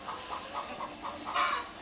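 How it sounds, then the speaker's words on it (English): Chickens clucking in a homestead coop, a series of short, soft clucks in a loose rhythm, with one slightly louder call near the end. "The chickens are waiting for me to let them out here."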